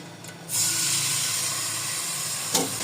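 Chicken pieces dropped into a cup of hot oil for chicken nihari burst into a loud, steady sizzle that starts abruptly and holds broad and hissing close by, with a brief sharper flare near the end.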